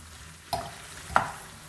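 Friarielli greens sauté in a pan after garlic has been removed, with a quiet sizzle punctuated by two or three brief scraping stirs and a clack at the end.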